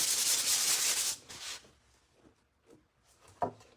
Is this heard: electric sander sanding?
yes